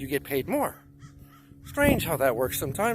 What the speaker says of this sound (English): And you can hear the birds singing